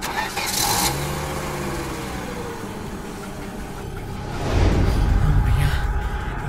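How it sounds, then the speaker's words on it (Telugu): A car engine cranks and catches at a spooky night scene, rising into a louder steady running rumble after a few seconds of quieter background. "ఇంజన్ స్టార్ట్ అయింది"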